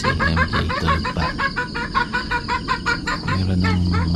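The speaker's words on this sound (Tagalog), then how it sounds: "Meron ng manok na nabubulabog at meron na tayo naririnig sa labas." Chickens cluck and squawk in a busy, rapid chatter outdoors at a campground at dawn, fairly close and continuous, with a low hum underneath and no talk.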